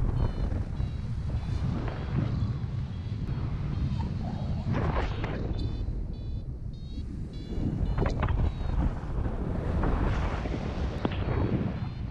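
Wind rushing steadily across a sailboat while running downwind in a breeze during a cross race, a broad continuous roar with buffeting gusts on the microphone, loud and close, with no talk.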